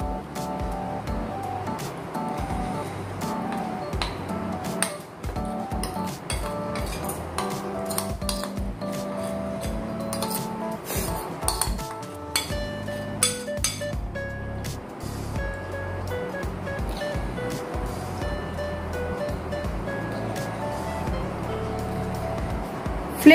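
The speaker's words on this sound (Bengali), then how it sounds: "তেল গরম হয়ে গেছে, এবার এর মধ্যে আমি সুজিটা দিয়ে দিচ্ছি।" Semolina poured into hot oil in a pan for a semolina pizza breakfast, giving a busy sizzling, clattering texture with scraping and stirring, steady and fairly loud throughout with no speech.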